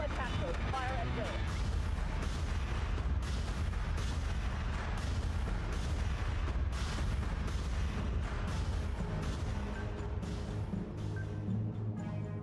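Battery flak fire from the space combat game Battlestar Galactica: Deadlock rumbles as a continuous barrage of deep booming bursts and crackling rapid detonations, dense and loud throughout with no pauses.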